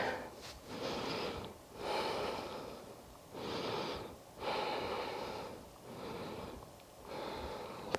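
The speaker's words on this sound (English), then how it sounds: "Breathing here, expanding through the ribs." Deep, slow breaths during an exercise stretch, drawn in through the ribs, heard up close in an even rhythm of about six long inhale-exhale cycles with brief pauses between them.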